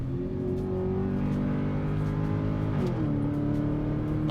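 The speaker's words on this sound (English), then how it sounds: "you can get an idea of what it sounds like and what it feels like to drive a first generation Porsche Cayenne" A first-generation Porsche Cayenne engine revs hard from the cabin after a two-gear downshift, a steady loud harmonic drone climbing in pitch, dipping briefly at a shift, then pulling up again.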